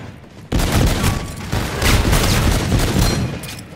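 Loud gunfire in the zombies mode of the video game Call of Duty Infinite Warfare, bursting in suddenly and continuing as a dense, booming volley of rapid shots.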